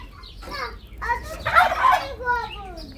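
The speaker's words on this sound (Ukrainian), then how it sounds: "У нас в селі казали, що це пантарки. Індики." Turkeys call near and loud, a run of gobbling and clucking bursts, with people talking in the background.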